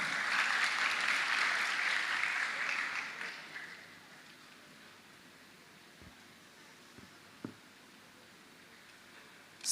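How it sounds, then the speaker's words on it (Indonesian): Audience applause at a school graduation for SMPK Santa Maria 2 Malang, a soft, distant wash of clapping that fades out after a few seconds into near silence with a couple of faint knocks. "Tepuk tangan dong untuk Pak Galang ya."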